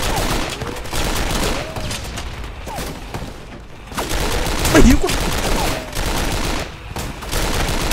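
K98 rifle fire in a video game battle, with bursts of gunfire and booms over a dense, noisy backdrop and a clear loud report near the middle.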